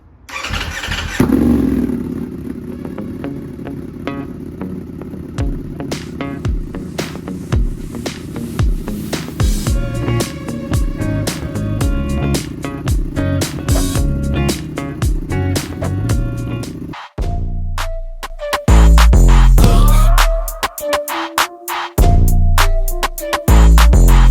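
A 2025 Ducati V4S motorcycle rumbles loudly up close during break-in riding, its engine revving and pulsing with sharp throttle blips, then shifts to a deeper, heavier drone near the end.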